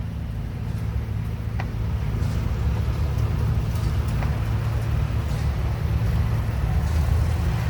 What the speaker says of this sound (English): It's a 1943 Farmall Model H, owned by the Utter Farms out of Georgetown.